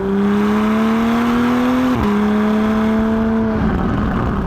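A Morgan Plus Six with a sports exhaust whose valve is jammed open holds a loud, steady engine drone close by, the pitch dipping briefly mid-way before settling and then fading into a lower rumble.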